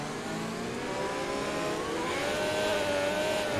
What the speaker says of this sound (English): you hear the rev limiter just getting hit